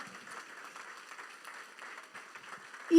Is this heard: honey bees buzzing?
no